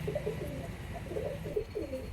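Soft, low pigeon coos repeat in a gentle rolling rhythm, quiet and close.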